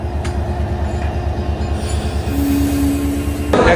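The Parjotak Express stands at Chittagong station with a steady low rumble of a nearby train, a sustained wheel squeal rising partway through, and a louder burst of noise at the end.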